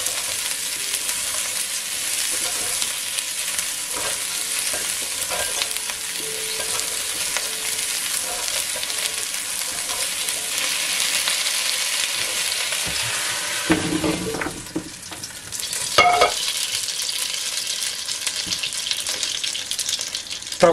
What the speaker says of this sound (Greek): θα πάρουμε τα κρεμμυδάκια μας, θα ρίξουμε λίγη ζάχαρη για να καραμελώσουν